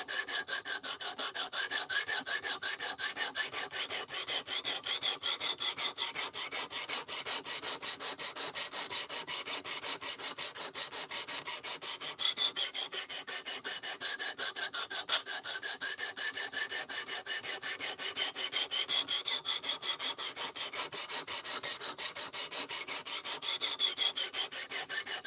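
A kitchen knife being ground on a 220 grit sharpening stone to reshape its bevel: a steady, close, continuous rasping scrape with regular back-and-forth strokes and no talking.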